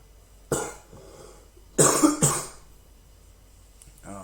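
Someone clears their throat in a few harsh, close bursts, one at the start and a doubled one in the middle, with quiet between.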